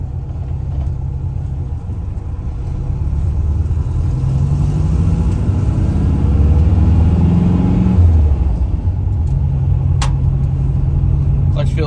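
A 1970 VW Beetle, freshly reinstalled engine running, drives around the block; a steady low air-cooled engine rumble rises and falls with shifts and acceleration from inside the car, loud and continuous throughout.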